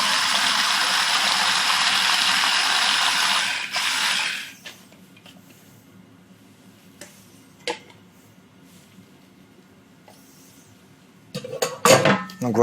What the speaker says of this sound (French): je vais mixer les deux éléments ensemble